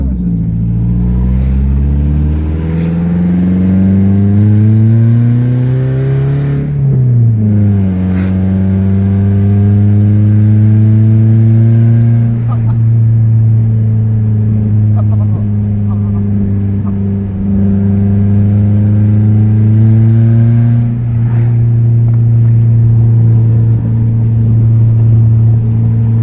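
Straight-piped Toyota Camry with a loud exhaust revving hard, rising and falling engine pitch in long sweeps with a swoop around the middle, then settling into a loud, sustained drone, close by, with people talking over it.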